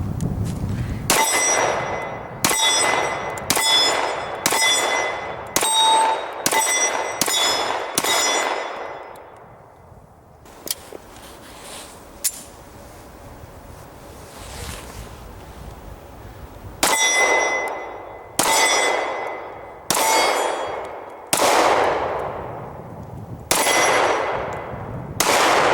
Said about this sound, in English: You can tell when 10 millimeter hits steel